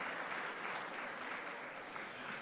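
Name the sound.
round of applause for event supporters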